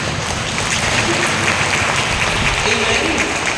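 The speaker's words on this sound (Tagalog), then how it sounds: "Grabe po yung palakpak niyo sa Panginoon." A church congregation applauds with dense, sustained clapping that stays steady and loud throughout, with no voices standing out.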